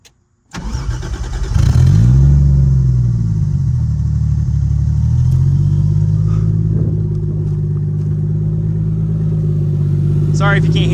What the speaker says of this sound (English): let's get a little startup, and I'll start revving it up for you